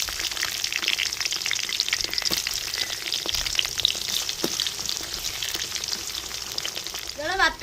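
Chopped onions hit hot oil already crackling with mustard seeds and curry leaves, giving a dense, steady sizzle and spatter close by for the whole stretch, with no talking.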